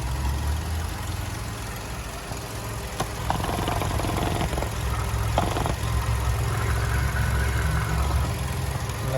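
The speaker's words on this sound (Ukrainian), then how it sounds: "Двигун працює ідеально, рівненько." A Volkswagen Golf engine idles steadily, a low, even rumble with a faint mechanical whir, holding at a constant level with no revving and no voices.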